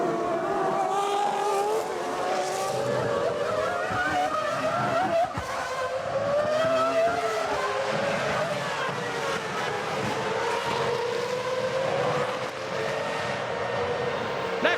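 Formula 1 cars race around the Grand Curve at Monza in 2001, their high-pitched engines wailing and shifting pitch as they pass, loud and continuous, with a commentator talking over them.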